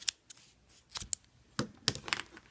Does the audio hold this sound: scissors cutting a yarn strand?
yes